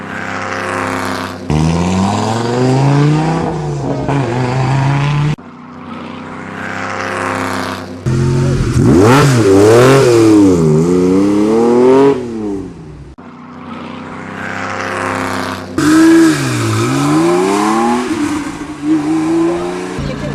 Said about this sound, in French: La Lancia Stratos de notre ami Verger s'élance pour la première spéciale